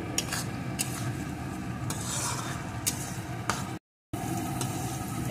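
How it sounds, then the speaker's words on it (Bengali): Crushed garlic frying with onions in a pan sizzles steadily up close, with spatula strokes scraping and clinking against the metal at irregular intervals; no voices are heard. "এখন রসুনটাও পেঁয়াজের সাথে সুন্দর করে ভেজে নেব।"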